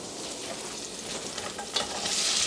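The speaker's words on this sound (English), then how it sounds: "Now we're gonna add our onions. We're gonna add those to the pot." Onions sizzling in a hot pot over medium-high heat for braised short ribs, a steady loud crackling fry with a stirring scrape near the end, no voices.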